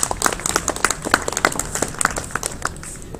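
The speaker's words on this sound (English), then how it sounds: "Give yourselves a round of applause." Scattered, fairly sparse applause from a small convention audience at a hypnosis show, with individual claps distinct and uneven, a few whoops mixed in, easing off toward the end.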